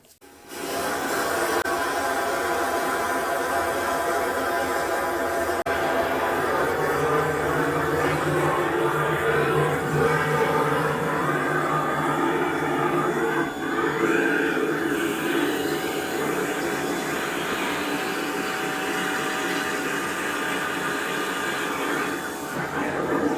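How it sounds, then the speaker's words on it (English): Parkside PRRS 15 A3 pipe cleaning hose driven by a high pressure washer inside bathroom drain pipes, a steady loud rushing hiss of water and motor that holds continuously throughout, with faint talk underneath. "The high pressure hose is trying to go more inside."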